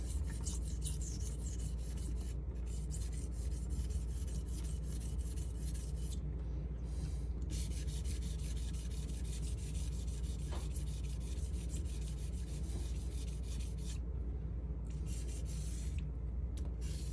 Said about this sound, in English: I'll do a couple more passes on this stone.